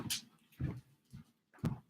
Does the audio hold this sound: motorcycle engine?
no